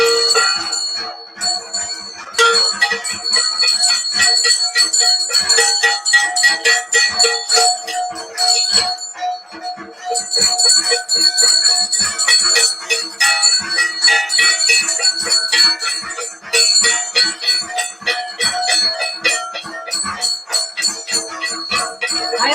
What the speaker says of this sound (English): will ring the bell